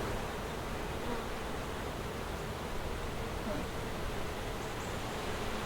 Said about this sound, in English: You are covered in bees.